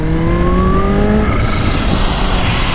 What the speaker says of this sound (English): Oh, is that the supercharger?